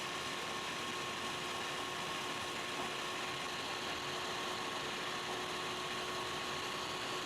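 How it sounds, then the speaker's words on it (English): A Rigid tile saw motor runs under repair, giving a steady, even electric whine with a faint hum beneath it, continuous and moderately close, with no voices. "Looks like we got a tile saw running."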